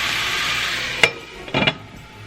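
Spicy bulgogi searing in a pan: a steady, soft sizzle runs throughout, broken by one sharp clink and a short scrape of a utensil against the pan, with no one talking.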